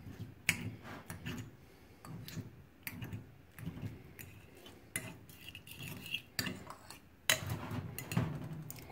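Scrambled egg being cut up and stirred in a pan with a utensil, a series of close clicking and scraping taps in an uneven rhythm, fairly quiet.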